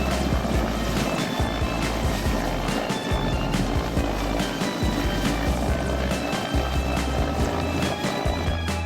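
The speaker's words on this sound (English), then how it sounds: "so the helicopter can fly away." A helicopter flying, its rotor chopping steadily and loudly under a broad rushing noise, with no speech over it.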